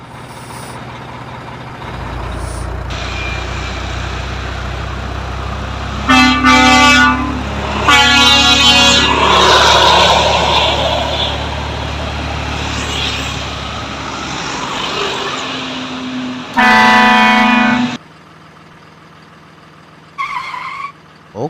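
A dump truck hauling timber sounds a series of loud horn blasts, two long honks then a shorter one, over a steady idling diesel engine, with a faint brief tone near the end.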